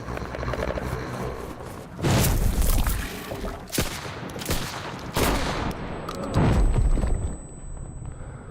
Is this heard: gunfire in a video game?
yes